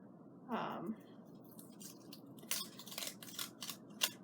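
An old, dried-out sticker is peeled off a book at close range: a short scratchy tear early on, then a series of small crackling and rustling bursts of paper handling, faint overall.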